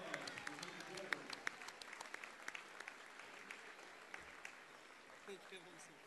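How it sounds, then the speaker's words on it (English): A gym crowd at a Collinsville Kahoks vs Belleville West Maroons boys basketball game claps in steady, fairly distant applause with sharp individual claps standing out, and voices murmur underneath. "let's have a big round of applause for Mr."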